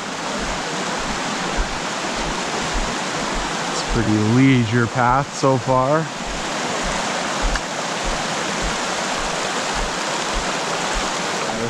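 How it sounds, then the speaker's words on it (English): Ribbon Creek rushes beside a hiking path in Kananaskis, a steady broadband roar of flowing water from nearby, with someone briefly talking over it midway. "So we're just walking up Ribbon Creek right now."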